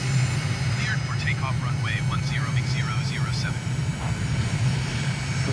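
Steady propeller-aircraft engine drone in Microsoft Flight Simulator during a dawn takeoff to the east over Trinidad and Tobago, loud and constant throughout, with faint chirping birdlike tones above it.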